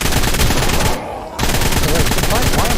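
Sustained rapid assault rifle fire in the video game Ark: Ragnarok, loud and dense, with a brief gap of about half a second before the automatic bursts resume.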